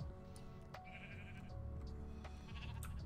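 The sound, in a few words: sheep bleating in Minecraft video game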